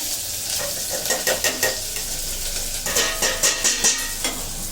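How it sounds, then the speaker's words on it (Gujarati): Parboiled vegetables sizzle in hot oil in a home kitchen while a spoon stirs them, its repeated clinks against the pan cutting through a steady close frying hiss. "એવા આપણે તેલ ફેંકું ને એવા બધું બકાલું છે થોડી વાર અમે નાખી દઈએ તેલમાં"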